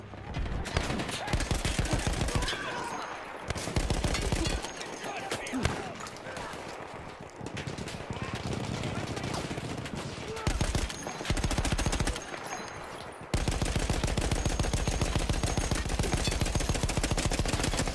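Rapid bursts from a mounted machine gun in Battlefield 1, crewed before by Austro-Hungarian troops, fire in loud sustained runs with short gaps between them, and gunfire continues steadily to the end of the stretch.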